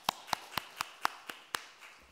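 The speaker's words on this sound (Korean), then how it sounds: "은혜 주신 앞에 모두 영광의 박수 올려드립니다" Slow, evenly spaced claps at a Sunday church service, about eight distinct sharp hits in a steady rhythm, close and clear with no talking.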